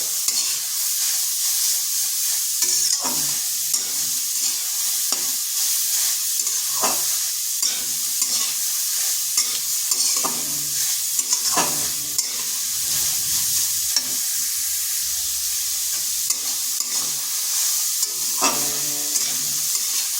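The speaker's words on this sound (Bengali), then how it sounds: "গাজরটা একটু ভেজে নিচ্ছি যাতে তার কাঁচা একটা গন্ধ যে থাকে সেটা চলে যাবে" Grated carrot fries in a pan, giving a soft, continuous hiss with frequent light scrapes and taps of a spatula stirring, steady and close throughout.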